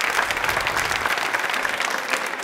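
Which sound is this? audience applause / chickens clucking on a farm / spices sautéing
audience applause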